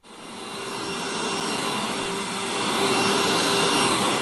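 Recorded vacuum cleaner sound from a smart speaker: a continuous whooshing motor roar with a faint steady whine, starting abruptly and holding loud throughout, with no speech.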